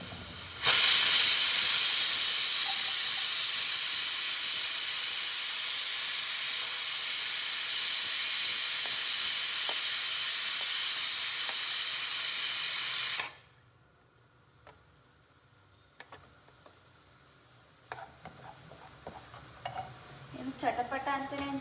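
Chopped onions and tomatoes frying in melted butter, a loud continuous sizzle and hiss that runs steadily for about twelve seconds then cuts off abruptly, leaving quiet clinks and faint stirring sounds.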